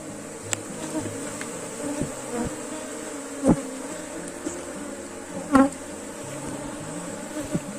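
An aggressive honey bee colony buzzes steadily at the hive while a new swarm is being formed, a dense constant drone with a few close bees zipping past and occasional light knocks.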